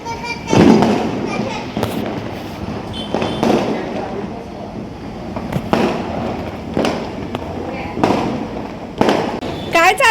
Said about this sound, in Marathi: कसे फटाके फुटतायत?